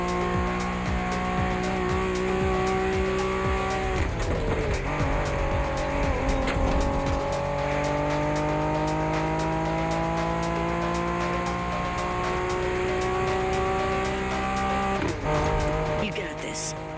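Engine of a special Honda NSX race car in The Crew Motorfest, a loud, close and continuous whine that climbs steadily through repeated gear shifts, with brief tire squeals and a few breaks in the pitch.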